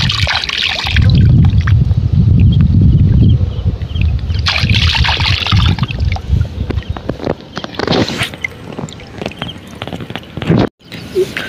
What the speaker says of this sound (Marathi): चांगले साफ धुवून घ्यायचे एकदम.